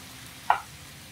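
Chopped onion dropped into a hot pan for a quick chicken breast dish, giving a single short burst of sizzle that quickly fades into a low background hiss.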